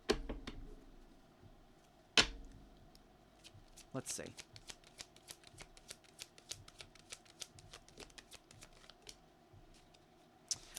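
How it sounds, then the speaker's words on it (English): A tarot deck gets shuffled in quick, close, crisp riffles and rapid card flicks, with a couple of louder slaps, and a brief spoken remark at the start. "Let's give them a shuffle."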